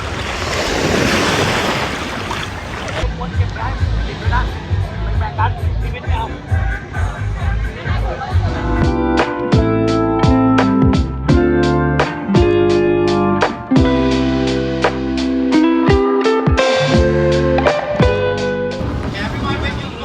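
Ocean waves wash in steadily at Maya Bay beach in Phuket, a broad rushing surf with wind gusting over the microphone, later partly buried under loud music with voices.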